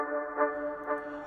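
Staccato brass sample from Dance Orchestra layered with guitar, a bright sustained chordal tone with two soft accents, moderately quiet and alone.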